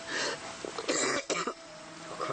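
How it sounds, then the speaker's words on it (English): A woman who is freezing and unwell gives a harsh, close cough, several rough bursts and throat-clearing rasps in quick succession. "terrible cough coming"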